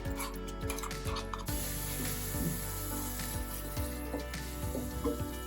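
Ground onion paste sautés in oil for an eggplant curry, a steady hiss of frying under repeated scraping strokes of a spatula stirring the pan, close and continuous.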